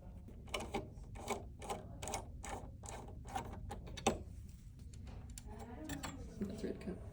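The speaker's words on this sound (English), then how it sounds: "And just retighten those screws." Screws on a sewing machine's needle plate are retightened, a quiet series of rhythmic ratcheting clicks and scrapes from a screwdriver at close range, with brief soft talk near the end.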